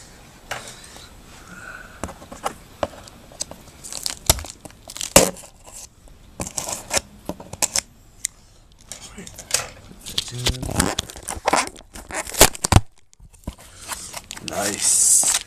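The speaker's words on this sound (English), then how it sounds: "Let's cut it open into this." A sealed pack of 2010 Panini Plates & Patches football trading cards is cut open, producing close crinkling, tearing and crunching of wrapper plastic in irregular bursts under a person's talking.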